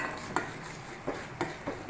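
A spoon scrapes and clinks in a pan as urad dal and chana dal fry with mustard seeds, with a soft sizzle underneath and a few sharper knocks against the metal.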